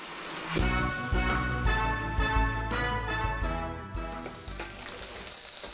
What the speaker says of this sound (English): We just want to lightly brown the wieners a bit.